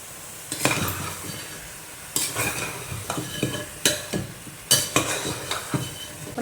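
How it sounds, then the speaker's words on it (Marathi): Chicken pieces sautéed and stirred in a pan for a quick chicken rassa, with repeated scraping stir strokes and a soft sizzle, close and fairly loud, no talking. "ह्याच्यात कमीत कमी 5 मिनिटं तरी चिकन परतून घ्यायचे चांगलं"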